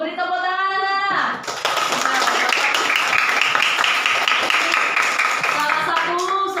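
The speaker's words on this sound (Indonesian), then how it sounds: "Beri tepuk tangan anak-anak." Children clap together in a classroom, a lively burst of close, rapid applause lasting several seconds, with a teacher's voice heard just before and as it ends.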